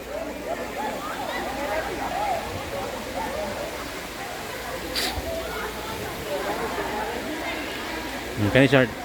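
Water flows at Cambuhawe spring, a continuous broadband rush heard close by under someone talking, with a brief clatter near the end.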